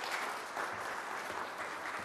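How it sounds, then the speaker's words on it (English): Audience applause at a magic show, a steady wash of clapping hands that fills the full two seconds at an even, fairly quiet level with no voices. "let's give this magic wand a big round of applause"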